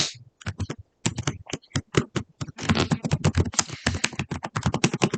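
Rapid typing on a computer keyboard, a close, crisp series of clicking keystrokes in quick uneven bursts with brief pauses, no talking.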